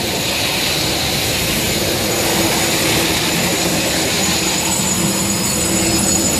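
A Sawzall-type reciprocating saw fitted with a coating-removal head strips deck coating from a concrete slab during a deck restoration, a loud continuous harsh roar that stays steady throughout.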